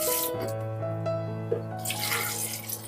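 Tap water runs steadily into a container while pandan juice is prepared for bingkang pandan, with faint clinks over a continuous music bed.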